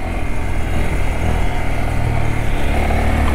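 A 2022 Honda Grom motorcycle's small single-cylinder engine revs hard up close. Its steady, buzzing drone climbs in pitch for a few seconds, with no voices.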